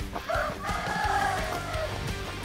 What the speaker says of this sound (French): Ça fait peur le coq.